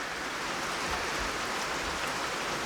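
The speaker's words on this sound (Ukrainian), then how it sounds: "Ну, стріхи чутно як капає." Steady rain dripping from roof eaves, dense continuous dripping and patter filling the whole span with an even wash of water noise.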